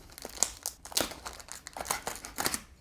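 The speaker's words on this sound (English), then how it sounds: "So let me cut this thing." Plastic blister packaging around a Beyblade Burst Ultimate Valkyrie toy being cut open, giving repeated close crinkling and crackling bursts with short snips over about three seconds, without any voices.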